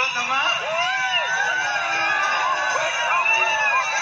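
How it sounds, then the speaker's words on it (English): A festival crowd cheering and whooping at a live music performance, with loud, continuous screams and rising shouts layered over one another. "The crowd goes wild."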